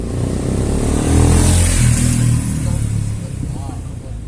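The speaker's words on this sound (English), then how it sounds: "Engine. Yep." A Cfmoto 700CL-X motorcycle engine runs with a steady, low rumbling drone that swells slightly partway through, with faint voices nearby.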